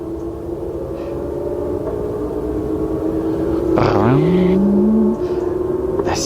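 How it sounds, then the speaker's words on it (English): Racing cars sound from a distance near East Midlands Airport, with a steady engine drone and one loud sweeping pass that rises and falls around the four-second mark, under light background noise. "the sound of those racing cars going pow, pow"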